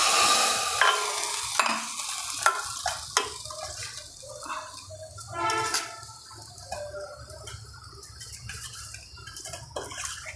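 Spices for a Gujarati vaghar tempering crackle and sizzle in hot oil in a pan, with clinks and scrapes of stirring, a brief louder burst midway, and a low steady hiss beneath.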